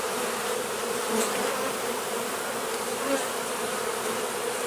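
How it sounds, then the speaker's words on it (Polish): Agitated honeybees, just shaken off their frames, fill the air with a dense, loud, steady buzz from many insects close by, swelling slightly now and then with no talk over it. "Jak widzicie trochę tutaj się już zaczyna dziać, ale to głównie przez to strząsanie strząsanie pszczół."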